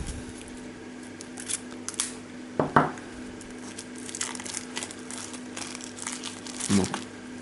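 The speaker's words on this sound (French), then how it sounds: "Hop, on va ouvrir maintenant les petites cartes." Small cards of a Deep Madness board game expansion are unwrapped, with crisp plastic crinkling and tearing, a few sharp rustles and a couple of louder crackling bursts, close up and fairly quiet.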